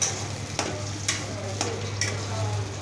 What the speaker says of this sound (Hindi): इसके अंदर मैं ये हमारा मक्का का पेस्ट है वो डाल के और इसको हल्के से फ्राई करती हूँ